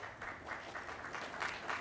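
Applause from an audience at a BART Silicon Valley groundbreaking event, a steady, fairly faint patter of clapping that holds for a couple of seconds without fading.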